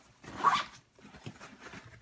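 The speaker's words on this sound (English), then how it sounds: "So we'll go ahead and zip this one back up." The zipper on an Oakley Breach range bag is pulled closed in two quick strokes, one sharp rasp followed by a softer, shorter one, close and fairly quiet with no talking.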